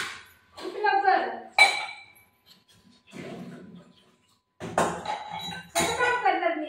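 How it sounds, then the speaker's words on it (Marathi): Dishes, pots and cutlery clink and clatter in separate bursts while being washed at home, with a voice speaking between and over the clatter. "भांडी घासते मला"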